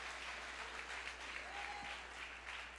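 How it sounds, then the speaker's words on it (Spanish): A church congregation claps for the Lord during a sermon: steady, faint applause that holds evenly from start to finish and sounds distant. "Dale el aplauso al Señor"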